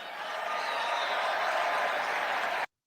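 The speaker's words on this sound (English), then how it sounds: "to give them a round of applause" An audience at a live talk and fundraiser event breaks into sustained applause, a dense wash of clapping that holds steady at full volume before cutting off abruptly.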